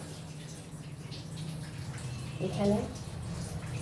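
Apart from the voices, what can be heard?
washing hands under running tap water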